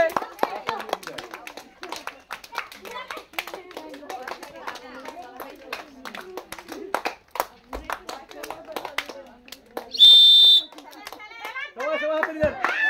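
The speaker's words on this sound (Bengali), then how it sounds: "সবাই হাততালি হবে।" A group of village women claps together during a blindfolded ball-toss game, with a fast, irregular patter of many hands near and far, mixed with chatter and children's voices and a brief high whistle-like tone partway through.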